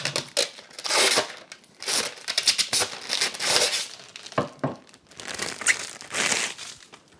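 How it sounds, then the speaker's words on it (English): Paper crinkles and tears in irregular bursts as a protective sheet is peeled off a Krups Nespresso Vertuo Plus coffee machine, close up, with no talking. "Just remove this paper."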